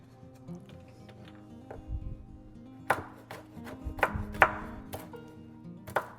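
A knife cuts a banana into small pieces on a board, giving a handful of sharp, irregular chops that stand out against a quiet kitchen background.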